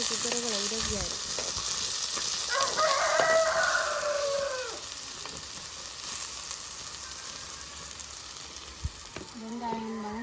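Onions sautéing in a pan on a kerosene cooker, a steady close sizzle throughout, with a rooster crowing in the background partway through.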